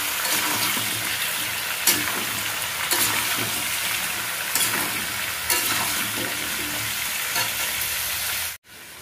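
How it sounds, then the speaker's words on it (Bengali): Salted potatoes frying in hot oil, browning in a pan, with a steady, loud sizzle throughout and occasional stirring scrapes, ending in a brief dropout near the end. "দিয়ে এবারে ভাজবো, আলুগুলোকে একবারে লাল লাল করে ভেজে নেব।"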